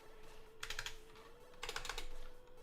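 Retro mechanical computer keyboard being typed on, two quick bursts of crisp, clicky keystrokes separated by a pause, close and fairly quiet over a faint steady hum.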